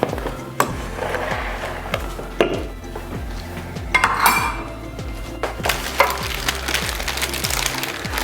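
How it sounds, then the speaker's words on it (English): A spoon stirs soy sauce, oyster sauce and lots of sugar together, scraping and clinking against the container in a steady, repeating rhythm, with a few louder knocks along the way. "you just stir it until most of the sugar is dissolved"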